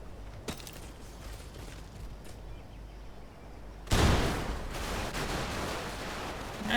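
Explosions and gunfire in Crysis Remastered: a low rumbling bed of battle ambience, then a loud blast bursts in near the four-second mark and continues as a dense, roaring crackle of fire and debris.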